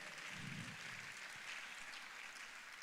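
Audience applause at a LAUTECH gathering, a steady wash of clapping that carries on through the whole moment at moderate, somewhat distant volume.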